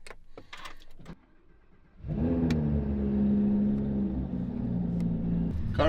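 A Lamborghini engine fires up and settles into a loud, steady, deep rumble close by, following a few brief clicks and handling noises inside the cabin.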